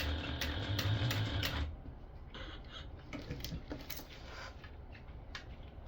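A sewing machine stitching a basting seam on a bag strap connector: a short close burst of rapid mechanical stitching, followed by quieter handling clicks and rustles.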